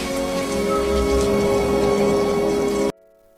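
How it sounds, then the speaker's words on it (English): Steady rain pattering on a surface, a dense continuous hiss of drops with a faint tonal hum underneath, then sudden quiet. "I wish the rain would stop just once. It can't rain all the time."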